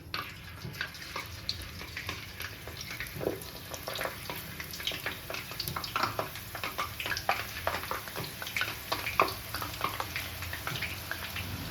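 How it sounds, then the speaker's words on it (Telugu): Green-coloured boondi drops fry in hot oil for sweet-shop style sweet boondi, giving a soft continuous sizzle with scattered crackles and stirring, close and fairly quiet, with no talk. "ఇప్పుడు నెక్స్ట్ మనం గ్రీన్ కలర్ యాడ్ చేసిన బూందీ వేయించుకుందాం అండి"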